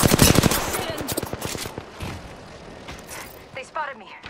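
Video game gunfire in a first-person shooter: a dense burst of rapid shots in the first half-second, then scattered single and clustered shots fading into game effects and a brief voice.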